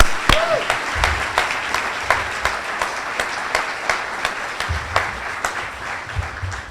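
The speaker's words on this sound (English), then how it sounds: "One more giant round of applause from all our recipients." Applause for award recipients at a volunteer awards ceremony, a steady wash of clapping from a hall audience at moderate loudness, with a few sharper individual claps standing out in a regular rhythm.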